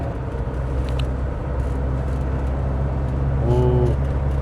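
Mercedes W123 240 D from 1976, a naturally aspirated two-litre diesel sedan, driving on a road, heard as a steady loud engine and road rumble from inside the car, without voices.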